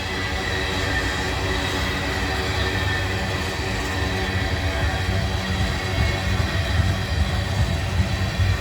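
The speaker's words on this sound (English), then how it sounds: "You hear that buzzing sound like an airplane? That's because the rail grinder came through here and ground the rails" A southbound manifest freight train with a DPU rolls past on freshly ground rails, its wheels giving a steady, loud droning buzz with rumbling wagons underneath, continuous and close throughout.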